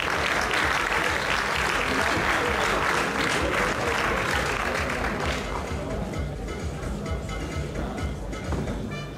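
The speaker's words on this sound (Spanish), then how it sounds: "Un fuerte aplauso para todos." Loud, dense applause from the audience at a Galician IFBB men's heavyweight bodybuilding championship, sustained for several seconds and gradually thinning toward the end, with no talking.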